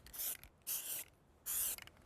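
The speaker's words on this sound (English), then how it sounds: "It allows me to spray on the primer right onto the metal flashing." Spray primer from an aerosol can hisses onto metal roof flashing in three close, steady bursts separated by short pauses.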